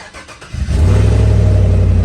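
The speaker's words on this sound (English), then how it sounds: "let's go ahead and turn on the truck" A truck engine cranks briefly and catches, settling into a loud, steady idle rumble close by.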